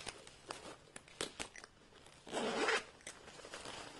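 A handbag's zipper is drawn open with a dense, raspy burst that stands out from the small clicks and rustles of handling around it. The handling is close and fairly quiet, and no one speaks.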